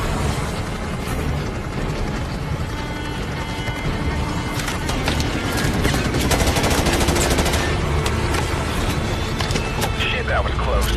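Dense gunfire and bursts of automatic weapons in Call of Duty Advanced Warfare during a Marine landing, loud and continuous with rumbling impacts, under radio-style voices talking.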